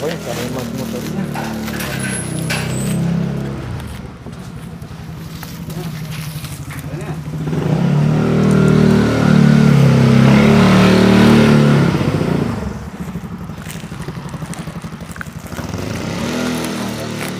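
A small boat motor starts up and revs, rising to a louder roar midway before settling back to a steady idle, with people talking nearby throughout.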